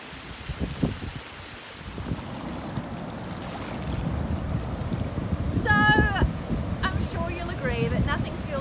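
Ocean waves wash against the shore on a cold day in nature, a steady broadband surf with wind buffeting the microphone, rising slightly toward the end, while a voice talks quietly over it.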